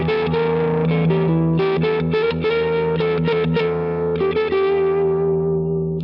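Distorted electric guitar plays bluesy licks with bent and held notes through effects, loud and continuous, no talking.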